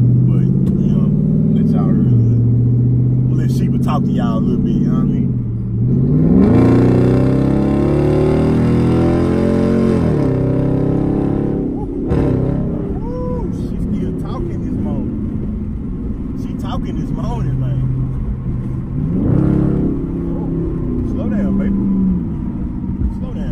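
A Dodge Charger's modified exhaust hums and rises in a few revving surges, heard from inside the car with windows cracked slightly, someone talking over it throughout.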